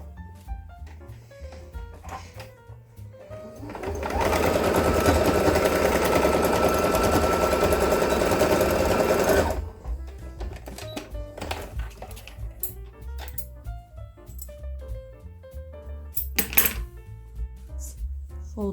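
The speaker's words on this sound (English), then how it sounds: "All right, and let's sew that." A sewing machine stitches a headband made from a Dollar Tree scarf, a loud steady mechanical whir of about five seconds framed by quieter handling clicks and rustles.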